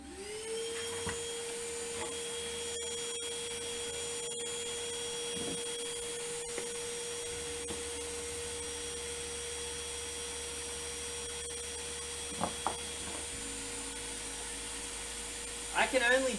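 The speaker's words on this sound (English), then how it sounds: "I'm just connecting the hose to the suction inlet, and then you can clamp your hose to the bench." An Ozito 18 volt shop vac runs with its hose attached, holding a constant whining hum from start to finish. A few brief knocks and clicks sound near the end.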